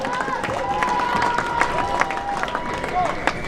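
An audience at an awards ceremony for a mask contest claps steadily throughout, a dense wash of hands with some crowd murmur and a voice speaking over it.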